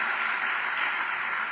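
A church congregation applauds during a Spanish-language sermon, a dense and even wash of clapping that holds steady, fairly close, without any speech over it.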